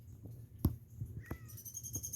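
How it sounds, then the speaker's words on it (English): A cat named Oscar meows off in the distance in an early-morning spring garden, a few faint cries under quiet outdoor ambience with a brief chirp of birdsong near the end. "I hear Oscar meowing off in the background"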